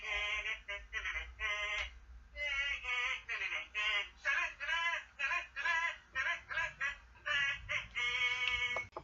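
A phone ringtone plays bright, chirpy electronic tones in short repeating bursts, fairly faint and with no voices.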